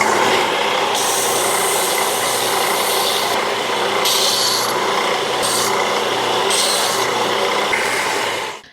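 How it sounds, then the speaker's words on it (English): Belt sander grinding a wooden piece, a loud continuous rasping whir with the pitch shifting as the wood is pressed and lifted, running alone until it cuts off at the end. "I'm gonna sand this piece with the belt sander"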